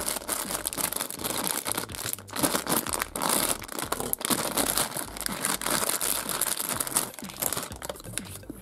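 Loud, close crinkling and rustling of plastic packaging being handled and torn open, in irregular bursts with brief pauses.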